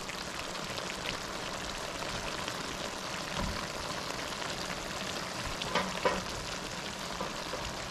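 Pumpkin and shrimp with fresh tomatoes simmering down in a pan, a soft continuous sizzle and crackle with a few brief louder pops and stirring scrapes, no voices.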